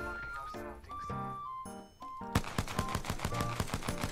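Rapid video game gunfire crackles in dense bursts through the second half, layered over a musical soundtrack with tonal notes, loud and close.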